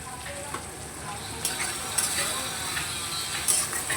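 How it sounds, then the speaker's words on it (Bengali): Chopped onions salted in a pan fry with a steady close sizzle, broken by a few sharp scraping clatters of a spoon stirring against the pan. "পেঁয়াজ কুচিটাকে ভালো করে ভেজে নেব।"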